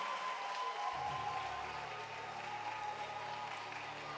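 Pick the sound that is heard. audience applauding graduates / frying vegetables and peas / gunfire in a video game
audience applauding graduates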